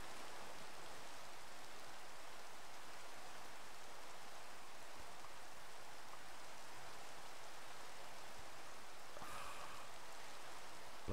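Minecraft rain hisses steadily throughout, a dense, even wash of falling-water noise at moderate volume with no pauses, and one brief sharper crackle near the end.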